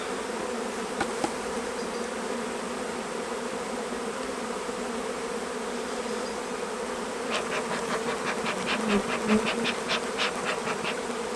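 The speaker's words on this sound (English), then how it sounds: "we've also got 3 supers here that are full of bees" Honey bees hum in a steady, moderate drone around an open hive filled with bees, swelling louder toward the end as individual buzzes rise above the background.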